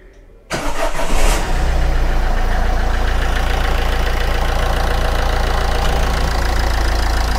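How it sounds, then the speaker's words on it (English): A Ford Fiesta Classic engine cranks and catches after a short quiet moment, then settles into a loud, steady, even idle close by, heard just after an oil change and flush. "Now let us start the engine."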